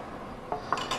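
A metal sheet pan is handled in a kitchen while Beef Wellington is prepared, giving a few faint, quick clanks and scrapes against a quiet background.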